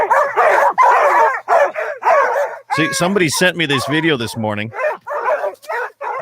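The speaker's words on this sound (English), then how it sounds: "I don't know if you recognize those barks or not." Several dogs barking in a played recording, a burst of sharp, overlapping yips and barks with a whine, loud and close, preceded and followed by someone talking.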